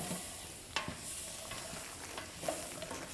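Butter melting and sizzling in a Cancooker pot, a steady soft crackle with a few sharp clicks, no talking.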